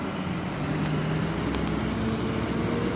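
Vehicles climb the steep, sharp-turning Ichalkaranji ghat road, a steady low rumble of engines and traffic noise holding throughout, fairly close, with no talk.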